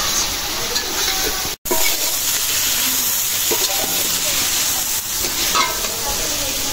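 Chicken pieces fry in a pan for a home-cooked chicken rezala, with steady close sizzling and stirring throughout, briefly cut by a short dropout partway through.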